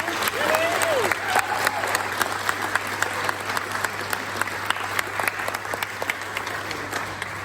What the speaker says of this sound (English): So give a little round of applause to this lady.